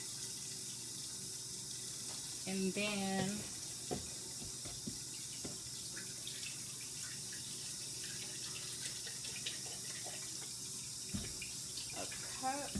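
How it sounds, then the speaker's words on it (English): Water pours and splashes into a pot of canned green beans at a low level while a person talks briefly over it. "Like to put a cup of water in here,"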